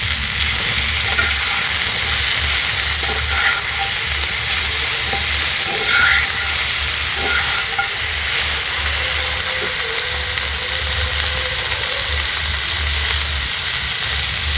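Carrot, tomato, cabbage, green chili and egg frying in a pan, giving a loud, steady sizzle and hiss with occasional stirring clicks and scrapes, continuous throughout with no voices.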